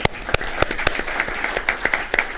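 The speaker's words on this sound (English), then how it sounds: "a big round of applause for Martha." A crowd at a city council meeting claps in a sustained round of applause, dense and steady with a few sharper individual claps standing out, no talking over it.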